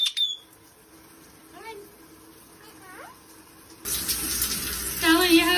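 Tap water runs for a pet parrot's shower, a soft trickle at first that turns into a louder, brighter splashing stream near the end, with a few faint chirps from the bird.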